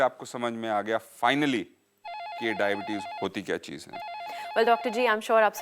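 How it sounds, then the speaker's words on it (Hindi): A landline-style telephone bell rings steadily during a Hindi health talk show on reversing diabetes, its warbling electronic trill running beneath two people talking. "फ़ोन की घंटी लगातार बज रही है"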